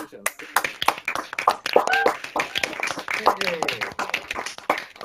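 Graduates of an engineering school clap and cheer over a video call, scattered sharp claps layered over overlapping voices in a busy, uneven burst.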